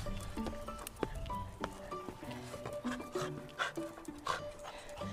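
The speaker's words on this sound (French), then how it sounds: "Je pensais que tu n'avais qu'un chien." A dog barks several times in short, uneven bursts. The barks are faint and muffled, with soft rustling and movement around them.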